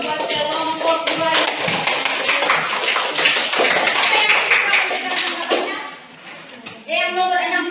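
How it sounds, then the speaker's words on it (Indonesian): Junior high classroom students applauding a presenting group, a burst of dense clapping from many hands lasting several seconds before fading, with a voice speaking over the applause. "Berikan aplaus buat kelompok 2."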